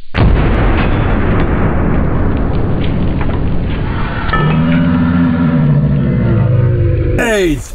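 A .50 caliber rifle fires with a heavy, booming blast that fills the start, followed by ringing echo and a sharp transient near the end, with people talking around it.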